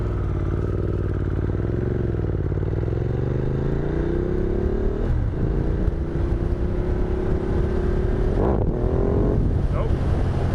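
A Ducati Multistrada motorcycle pulls hard in second gear during a wheelie attempt, its engine note rising steadily in a loud, close drone with wind rush, a brief cut in power, then climbing again.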